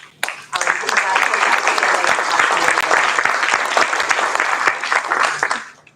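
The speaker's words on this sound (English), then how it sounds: "So I want to give us all a big round of applause." Audience at a school board meeting breaks into sustained, loud applause, steady dense clapping lasting several seconds before fading out at the end.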